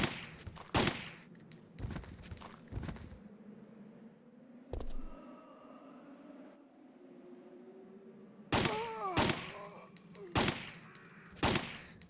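Gunfire in the Resident Evil 3 video game: sharp shots come in two clusters, several rapid loud blasts at the start and another burst near the end, with a quieter stretch of game ambience in between.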